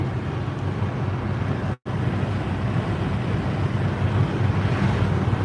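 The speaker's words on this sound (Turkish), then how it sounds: "şey rüzgar oluyor ya" Strong wind buffets the microphone with a constant roaring rumble, broken by one brief dropout.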